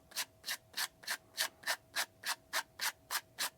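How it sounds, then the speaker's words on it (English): Steady back-and-forth sanding with sandpaper on the ends of a metal rod while building an FMS P-47 Bonnie RC plane, about a dozen even, close strokes in a regular rhythm, with no talking. "So you can take your little sandpaper,"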